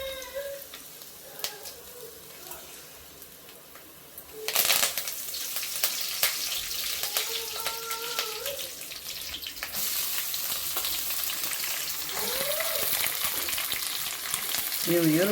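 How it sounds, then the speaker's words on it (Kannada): Byadgi chillies, with curry leaves and a little garlic, are tempered in hot oil and burst into a loud, continuous sizzle partway through. Occasional stirring scrapes sound over the steady crackle. "ಒಗ್ಗರಣೆ ಹಾಕ್ತಾ ಇದ್ದೀನಿ. ಮೆಣಸಿನ್ಕಾಯಿ,"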